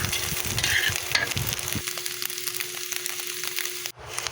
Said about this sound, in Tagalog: Atin pong paghalo-haloin ang ating mga ingredients, ang sibuyas, ang bawang, ang ham, ang itlog at ang ating